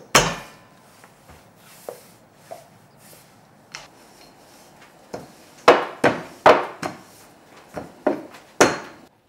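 Noodle dough being rolled out with a rolling pin on a wooden board for Korean knife-cut noodle soup, heard as a series of loud thumping knocks and rolling rubs, sparse at first, then bunching into rapid close strikes, with no talk.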